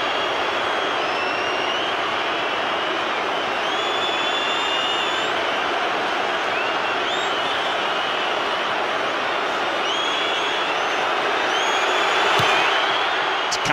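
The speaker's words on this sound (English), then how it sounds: "I'll let you listen to the crowd when he hits this." A packed State of Origin rugby league stadium roars as Johnathan Thurston lines up a goal kick for Queensland, a broad steady wall of crowd noise that swells near the end, with no talk over it.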